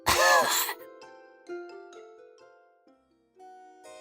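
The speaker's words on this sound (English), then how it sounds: "She coughed." A woman lets out a single harsh cough at the start, followed by soft tonal music lingering quietly afterward.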